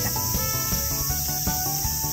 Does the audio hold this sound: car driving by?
no